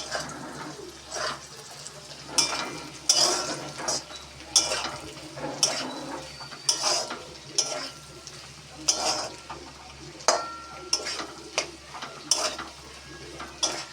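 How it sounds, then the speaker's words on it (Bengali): Eggs being stirred in a pan for street-style egg chowmein with vegetables, with repeated metal utensil scrapes and clinks in an irregular rhythm over a faint background sizzle, heard close and alone. "এরপর ডিমটা ভালো করে নেড়ে নেবো"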